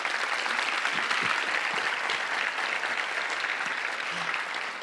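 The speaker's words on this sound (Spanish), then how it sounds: "Dale un aplauso, por favor." A church congregation applauding during a sermon, dense steady clapping from many hands close and continuous throughout, with no talking over it.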